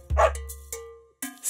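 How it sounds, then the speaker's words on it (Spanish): A cartoon-style dog barks in a Spanish children's song about a farmer's dog, giving a couple of short, close yips over a light musical backing. "Había un granjero que tenía un perro y se llamaba Bingo"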